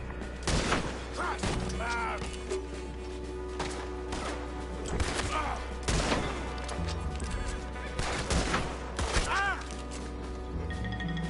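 Gunfire in Red Dead Redemption 2, several sharp shots cracking at intervals against a steady game backdrop, with a voice talking over parts of it.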